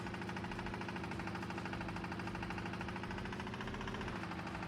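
Huge single-cylinder engine running steadily in the BeamNG Drive video game, a continuous loud low thumping drone with a dense rhythmic knock, no talk.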